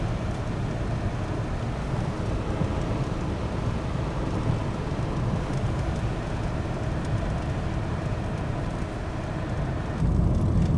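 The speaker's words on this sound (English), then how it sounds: "I know this car sounds noisy when there's like no music and stuff on" Steady, loud road and engine rumble inside a moving Pontiac Grand Am, a dense low roar with wind hiss that holds even throughout and swells slightly near the end, with no voices.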